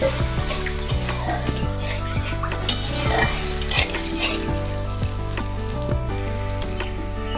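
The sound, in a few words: water added to frying spice masala for egg curry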